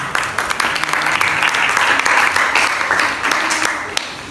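Classroom students give a short burst of steady applause for a presenting group during a physics lesson, the clapping loud and continuous.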